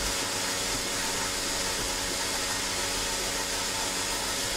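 A Tru-Test milk meter runs its wash cycle, giving a steady, unbroken rushing hiss of water and air that holds at an even level throughout.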